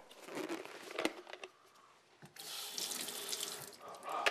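Tap water runs from a faucet into a ketchup bottle, a steady hiss and splash that pauses briefly and then resumes more loudly, with a few crinkling handling noises. No one speaks.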